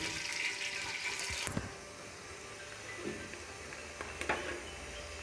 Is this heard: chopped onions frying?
yes